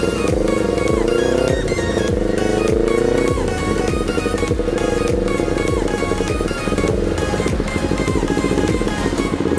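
A Kawasaki Ninja 250R with a loud aftermarket exhaust revs hard in a cemetery area, its engine rising and dropping repeatedly in close, continuous bursts throughout.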